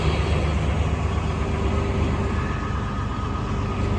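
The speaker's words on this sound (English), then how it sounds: "then we'll fire up the tractor" A farm tractor engine runs in a steady, loud, low rumble that holds an even tone throughout, close by and with no talking.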